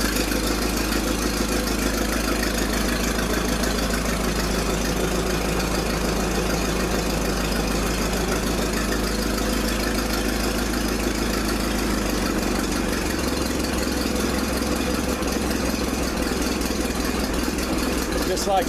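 An old family tractor engine runs at idle, a steady low mechanical chug with a knocking rhythm and vibration, continuous and close, while people talk over it.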